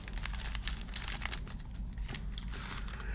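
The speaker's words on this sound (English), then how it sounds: "All right, got these packs. Dude, why the hell not? Rip them up." Foil baseball card packs are torn open close up, with continuous crinkling, crumpling and tearing at moderate loudness and no talking.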